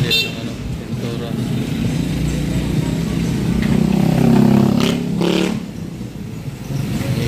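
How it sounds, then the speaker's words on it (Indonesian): A loud, noisy motorcycle passes in front of a paint shop on a street in the Philippines, its engine swelling and revving close by before fading slightly, with people talking over it. "Ingay! Ingay na motor!"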